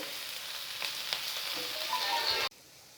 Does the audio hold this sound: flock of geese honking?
no